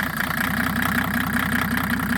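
A Mercedes W210 with an OM606 diesel engine fitted with an EDC pump idles steadily, a close, even low rumble with a regular knocking pulse and no talking.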